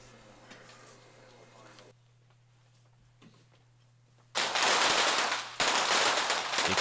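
Rifle fire at a position-shooting competition: a quiet stretch of low hall noise, then two loud, sharp close reports about a second apart, each ringing out.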